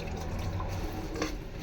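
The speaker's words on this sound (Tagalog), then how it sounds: "Ayan, mahina yung tulo." Weak trickle of water running from a household tap while a rice cooker is washed, a faint, steady liquid patter with a slight splash near the end and no talking.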